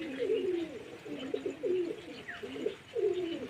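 Pigeons coo near a house in a series of close, throaty, repeated calls with short gaps between them.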